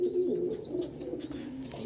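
Pet pigeons or doves cooing at breakfast, a steady run of soft, close, low coos with other birds calling faintly behind.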